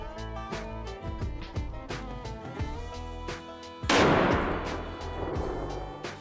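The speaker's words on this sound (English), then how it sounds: "I'm gonna shoot a TSS this time." A shotgun fires a TSS tungsten turkey load outdoors, one loud sharp blast that rings out over a steady patter of background hits and tones.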